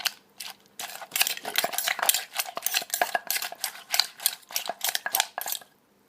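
Sharp rhythmic clacks of a pestle working papaya salad ingredients in a mortar, with stirring, repeating steadily at close range with short gaps and no talk.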